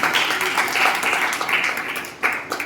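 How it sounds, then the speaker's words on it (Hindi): Audience at a Jain religious discourse in Budh Vihar, Delhi, breaks into loud, sustained applause, a dense wash of clapping that dips briefly near the end and then swells again. "जोरदार ताली देंगे"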